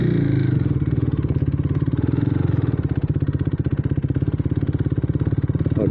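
A motorcycle engine runs close and loud with a steady, rapid thumping pulse that continues throughout, with no talking.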